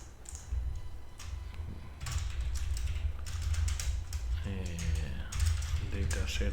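Computer keyboard typing in a room: rapid irregular clicking bursts at close range, continuing steadily throughout with a faint background hum.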